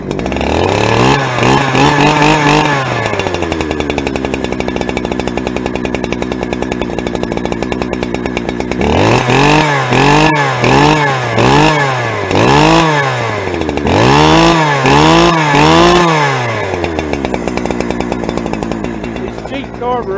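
A Holzforma 372xp chainsaw running loud and close, idling with a rich burble and repeatedly revving up and dropping back in rising and falling sweeps.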